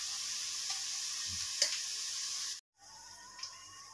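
Ginger garlic paste sizzling in hot oil with onions, cumin and mustard seeds, a steady bright frying hiss with small pops, briefly cut to near silence before the sizzle resumes more softly.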